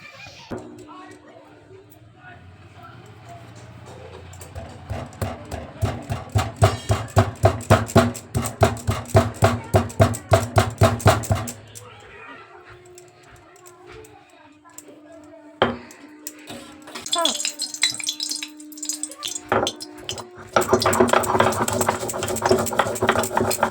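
Spices including chillies, poppy seeds, ginger, coriander and black mustard seeds are ground on a grinding stone, giving loud rhythmic scraping strokes in steady bursts, pausing midway, then resuming with clacks and knocks.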